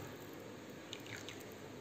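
Cornflour mixed with water poured into a pot of vegetable soup with a tomato twist, a soft, faint trickle and light dripping over a steady background hiss in a kitchen.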